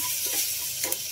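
Chilli and tomato sauté in a hot pan with a steady, close sizzle and a few soft stirring scrapes, no talking.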